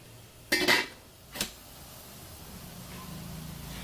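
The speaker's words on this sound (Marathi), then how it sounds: "पाणी उकळण्यासाठी आपण थोडा वेळ याच्यावरती एक झाकण ठेवूयात" A lid goes onto a pot of water being heated for horse gram soup, with a bright clattering knock followed by a second lighter clink, then quiet room tone.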